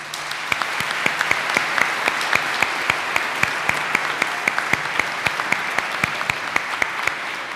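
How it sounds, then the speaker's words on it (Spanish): Steady applause from a crowd at a Mass, dense clapping sustained throughout with a few sharper claps standing out, loud and close. "vamos a darle un aplauso a estos jóvenes"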